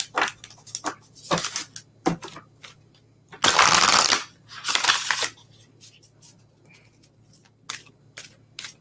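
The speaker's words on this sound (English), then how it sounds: "I don't know how to shuffle quietly. Especially these big cards." Large tarot-style reading cards being shuffled close by in several bursts of riffling and slapping, with one long, loud flurry in the middle and quieter handling between.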